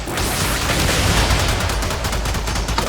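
Heavy gunner enemies fire guns in the video game Warframe: a dense, continuous roar of rapid gunfire filling the whole stretch at steady loudness, with no voices.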